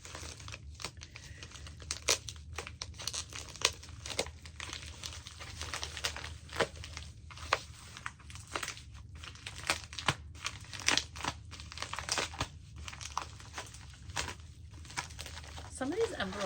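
Paper envelopes with strongly glued flaps being torn open, giving crinkly rustling and ripping sounds in irregular bursts close up, with a person talking at times.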